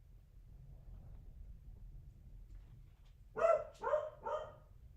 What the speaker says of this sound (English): Dogs are freaking out.